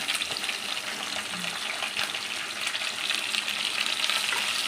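Urad and chana dal fry in a pan with onion, green chillies and curry leaves, making a continuous dense sizzle with faint stirring clicks and no talk.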